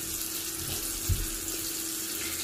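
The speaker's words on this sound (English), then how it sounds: "turn the faucet off with the paper towel" Steady running water from a sink faucet during a handwashing routine, a continuous even hiss with one brief louder splash partway through, no talking.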